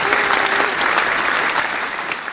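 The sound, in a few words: applause inserted in editing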